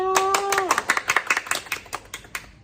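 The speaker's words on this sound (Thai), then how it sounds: "เสียงปรบมือให้กับเด็กๆหน่อยค่ะ" Scattered hand clapping for young kindergarten children, individual claps ringing out close and uneven after a sustained sung or spoken tone at the start.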